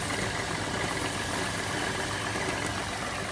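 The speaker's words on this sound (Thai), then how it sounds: "ตัวนี้เป็นมอเตอร์สามแรงนะครับ" A three-horsepower electric motor driving a three-piston sprayer pump hums and whirs continuously at a steady, even level, a dense broadband drone with no breaks, close by and running on its own.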